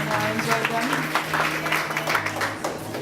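Applause at a wine taste-off event at a press club, scattered clapping from the crowd with a voice talking over it.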